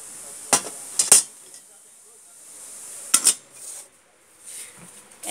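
An old kettle and antique iron cookware are handled in a grandmother's small shop, giving a few sharp metallic clinks and clanks in small clusters, separated by quiet gaps.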